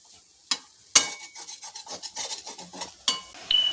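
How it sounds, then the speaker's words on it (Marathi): Grated sweet potato shreds are stirred in a pan with a spatula, giving dry scraping and rasping strokes in an irregular rhythm, close and fairly clear, with a few sharper knocks against the pan. "हे पहा सतत हलवत राहायचं म्हणजे खाली हा किस लागणार नाही"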